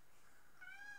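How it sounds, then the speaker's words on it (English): Pet cat giving a short, faint meow, a single rising call over quiet room tone, close but soft, with no talk. "That is my cat, Franny."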